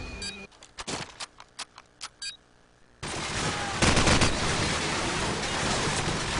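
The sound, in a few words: gunfire from many directions in a competitive shooter video game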